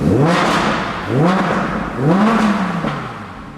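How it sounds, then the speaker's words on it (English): An Audi R8 V10 Plus engine revs loudly three times in quick succession on a cold start, each rise and fall of the throaty performance exhaust close and booming. "I didn't know it had like a performance exhaust on it."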